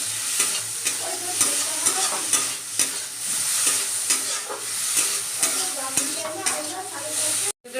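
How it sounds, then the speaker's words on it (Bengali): Shrimp frying in a pan with turmeric, hissing and sizzling steadily while a utensil stirs and scrapes in regular strokes, close and continuous throughout. "এদিকে চিংড়ি মাছ ভাজা চলছে"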